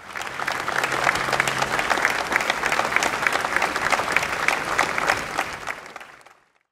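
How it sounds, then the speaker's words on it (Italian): Sustained, dense applause rises from a crowd as a coffin is carried out of a cathedral, continuing evenly before cutting off at the end. "Un corridoio d'onore accompagnato fra gli applausi e l'uscita del ferretro dal Duomo"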